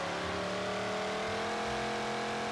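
In BeamNG, a Chrysler muscle car engine roars loudly and continuously, its pitch rising slightly as it revs under hard acceleration, with no speech.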